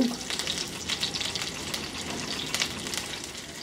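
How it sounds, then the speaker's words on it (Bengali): A medium onion and four or five sliced chillies sizzle in hot oil in a wok, a close, steady crackle with a few stirring scrapes. "মাঝারি সাইজের একটা পেঁয়াজ আর 4-5টা ফালি মরিচ এগুলো দিয়ে একটু নাড়াচাড়া করে ভেজে নিব"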